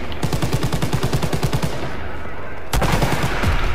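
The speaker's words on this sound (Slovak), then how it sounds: "Krásny výbuch. Krásny." Gunfire and a blast in the Call of Duty WW2 campaign: rapid bursts of automatic fire rattle in a steady rhythm, then a sharp loud boom hits partway through before more shots continue close up.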